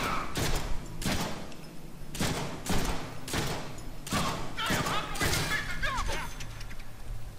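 Rapid gunfire in the Deadpool video game, volley after volley of shots aimed at the player, loud and dense throughout with crashes and thuds mixed in, while a person talks over the shooting.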